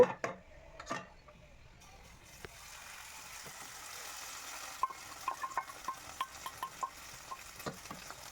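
Onion, green chili and egg bhujia frying in a pan, a soft steady sizzle with a metal spatula stirring and tapping the pan in a quick series of clinks near the end.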